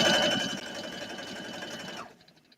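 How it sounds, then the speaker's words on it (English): Sewing machine stitching a denim jacket, a loud steady mechanical whir with rapid needle chatter that runs for about two seconds then stops abruptly, leaving faint room noise. "I'm going to sew this up."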